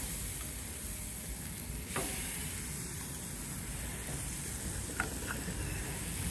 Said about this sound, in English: You can hear a nice sizzle.